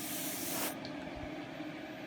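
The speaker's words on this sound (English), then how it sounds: "So I always run a little can of dust off." A can of compressed air duster blasts a steady, close hiss to clear out dust, with the burst shifting slightly partway through.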